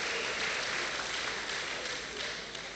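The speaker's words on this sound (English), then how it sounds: "Please, let's give them a round of applause." Audience applause at an academic faculty gathering, a steady dense wash of many hands clapping throughout at moderate, even loudness, slightly fading near the end.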